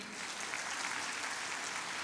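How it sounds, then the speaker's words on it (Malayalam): An audience claps in a hall during a Malayalam religious talk in the Changanassery archdiocese, with steady sustained applause that is fairly soft and even, and no voices over it. "കൈയടിക്കും"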